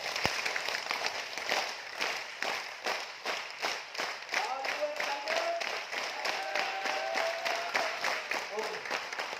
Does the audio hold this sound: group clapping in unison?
yes